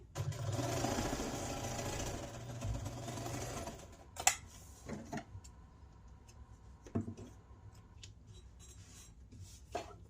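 A sewing machine runs steadily, topstitching around the edge of a quilted casserole-size hot pad. It stops a few seconds in, followed by scattered clicks and handling taps, close and quiet with no talk.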